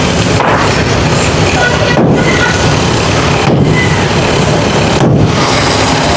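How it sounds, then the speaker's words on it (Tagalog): Heavy sledgehammer blows pound a hard concrete wall during a barangay hall demolition, landing as loud, crashing impacts about every one and a half seconds over a dense, noisy background. "mahirap din pala magmamaso kasi matigas yung dingding"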